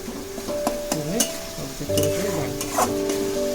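Tomato spice masala stirred and frying in oil in a pan, a steady sizzle under repeated scraping strokes of a spoon, with a continuous tonal hum from the stove running throughout.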